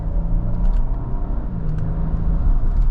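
A 2025 Nissan Armada PRO-4X full-size SUV with a twin-turbo V6 gets up to speed, heard from inside as a steady low engine rumble and road drone, moderately loud and continuous, with no talking.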